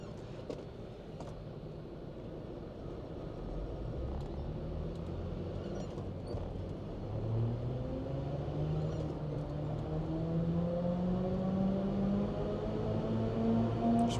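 A Land Rover Discovery Td5 diesel with a skimmed cylinder head running on a dyno, its engine note climbing steadily as revs build through the run, a rising drone heard alone and growing louder toward the end.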